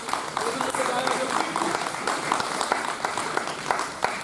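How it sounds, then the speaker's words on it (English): Applause from a crowd at a subcontractor safety forum, honoring a man's 60th birthday, a steady dense patter of many hands that holds for the whole stretch. "everyone just give him a big round of applause"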